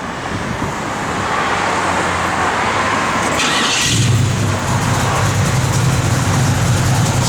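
A 1967 Chevrolet Nova V8 fires up and settles into a loud, steady rumble with a deep low-end throb that thickens midway, running continuously close by with no talk.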